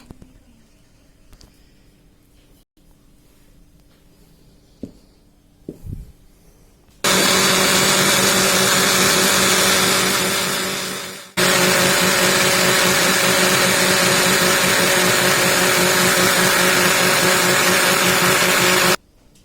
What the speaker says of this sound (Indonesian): Turmeric saya masukkan ke dalam tabung blender.